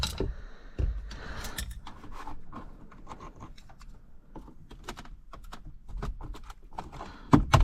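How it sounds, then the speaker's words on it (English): Plastic interior trim is pried off a 2016-2017 Honda Accord Touring, giving a run of sharp clicks and snaps with faint scraping between them, close and fairly quiet, with a louder pop near the end. "first we got to remove this trim over here too"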